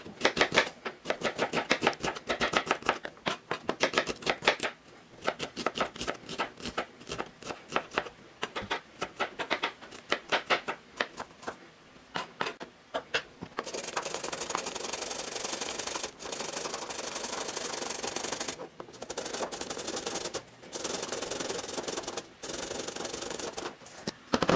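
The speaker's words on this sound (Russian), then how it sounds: "Я буду на терке для корейской моркови тереть." A carrot being grated on a Korean carrot grater: rapid, rhythmic scraping strokes, close and loud, that break up in the first half and then settle into a steadier rasping run with short pauses.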